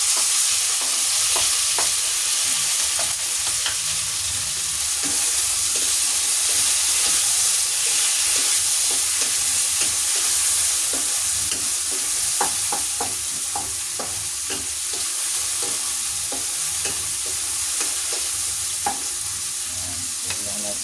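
Chopped tomatoes sizzle and hiss steadily in a hot pan, with scraping stirs from a utensil clicking now and then through a continuous loud frying bed.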